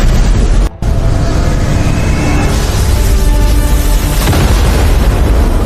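Cannon fire in a fantasy drama lands as one loud, close boom, followed by a long roaring rumble that fills the remaining seconds.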